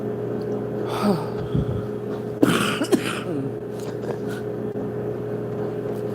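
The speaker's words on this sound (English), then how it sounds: "I still have like a little cough or whatever" A few short coughs and a throat clear over steady low background hum, no talking.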